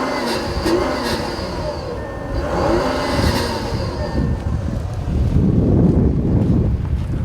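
A 2014 Audi A8 TDI diesel engine runs and builds revs on a drive, a low, steady rumble with some wind noise over it and brief talk near the end.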